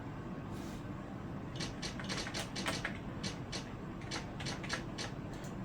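Rapid clacking keystrokes tap out in uneven bursts, an electric typewriter sound effect played from a Microsoft Natural Keyboard, clattering along under a low hum, quiet and close.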